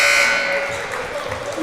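Final-quarter horn at a boys' varsity high school basketball game between QCHS and Upper Dublin, a loud steady electronic buzz that starts at full strength and slowly fades over crowd noise in the gym.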